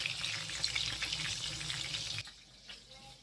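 Food fries in a pan over a gas flame, giving a dense, steady sizzle with crackles for about two seconds before it suddenly drops to a quiet, faint simmer.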